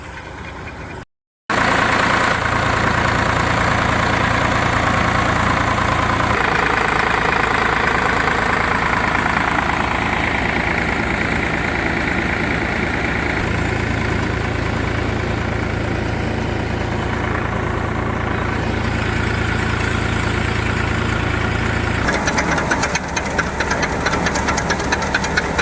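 A tractor-powered thresher drones on steadily, a loud engine-driven rumble with a rattling, knocking texture that persists throughout with slight shifts in pitch.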